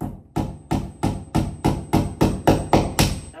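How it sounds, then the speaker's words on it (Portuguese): A hammer strikes repeatedly while furniture is assembled: about nine sharp, evenly spaced blows, loud and close, growing slightly stronger, with no talk. "Vamos fazer martelada."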